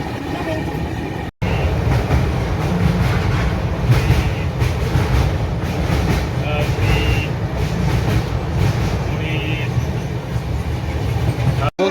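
Heard from on board, the Sai Nagar Shirdi to Howrah Superfast Express 22893 rolls along with a loud, continuous rumble and rattle of the carriage. There is a brief dropout, and faint voices sit under the noise.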